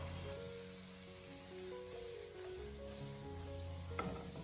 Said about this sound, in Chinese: 我们开大火将它快速的翻炒大概1分钟左右，把丝瓜给它翻炒至完全的熟透